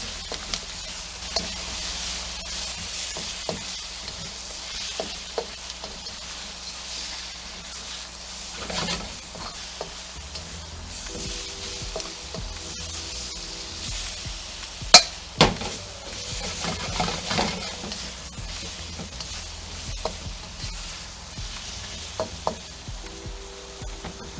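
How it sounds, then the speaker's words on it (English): Snow peas and shrimp sizzle in a hot pan for a steady stretch of stir-frying, a continuous hiss punctuated by intermittent clicks and scrapes of a utensil against the pan, with no talking. "Now we're going to add our snow peas. And we're going to cook this for about 2 minutes."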